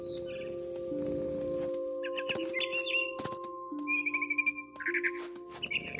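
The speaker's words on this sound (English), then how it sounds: "All I cared about was eating that mama bird." Mother bird chirping in the video game What Remains of Edith Finch, heard as a string of short, bright chirps and trills over a steady low game ambience and drone, fairly close.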